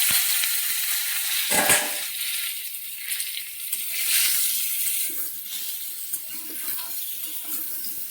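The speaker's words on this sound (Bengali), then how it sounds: "তেল দিয়েছি কড়াতে, আলুটা প্রথমে ভেজে নেবো।" Potatoes and chillies frying in oil in a wok, a steady close sizzle with brief louder bursts as the food is moved around, no voices.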